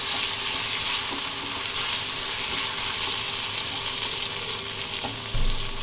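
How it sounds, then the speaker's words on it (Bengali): Ginger frying in hot oil, a steady bright sizzle throughout with occasional stirring clinks, for a potato, ridge gourd and yogurt curry. "খুব ভালো করে এটাকে তেলে ভেজে নেব।"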